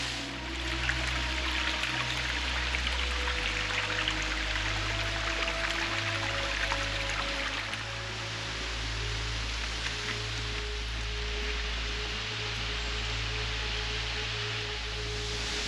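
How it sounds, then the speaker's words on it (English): Lena Falls, a little-visited waterfall, rushes as a steady, distant broadband wash, with faint tonal hums layered over it and no voices. "So you may be able to hear a waterfall in the background."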